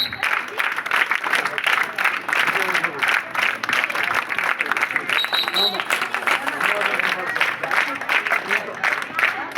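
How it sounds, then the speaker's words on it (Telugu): Schoolchildren at a village school event clap continuously in a rhythmic, fairly close burst of applause, while an adult voice talks loudly over the clapping throughout. "సార్ ఇక్కడ ఒక్కసారి విద్యార్థులు క్లాప్స్ కంటిన్యూగా ఉండాలి."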